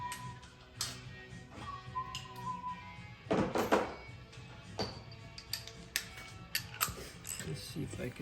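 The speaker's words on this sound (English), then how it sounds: "Let me grab a wrench and see." A wrench works on hardware while a Shelix helical cutterhead is being installed: irregular metallic clicks, ratcheting and clunks close up, with one louder burst of rattling partway through and no talking.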